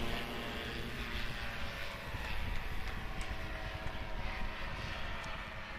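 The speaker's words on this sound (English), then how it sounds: "Dan Reynolds spooling up that Rotex," STOL airplane with a Rotax engine at an airshow competition, spooling up for takeoff: a steady, loud propeller drone with broad engine roar filling the background, sustained throughout without a break.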